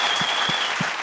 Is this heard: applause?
yes